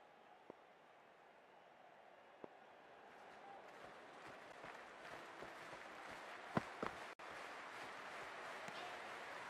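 Stadium crowd in the cricket video game Cricket 24, a broad, steady wash of applause and cheering that swells slightly midway, heard at a distance beneath a commentator's voice.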